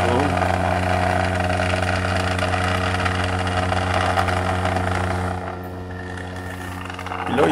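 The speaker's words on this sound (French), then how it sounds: "s'il y a des batteries qui activent un moteur qui fait vibrer" A battery-powered motor that makes a device vibrate runs with a steady buzzing hum, loud and close, before dropping off near the end.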